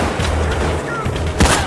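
Gunfire in Payday 2 aimed at a sniper, dense booming shots and rumbling battle noise with one heavier blast near the end, loud and close.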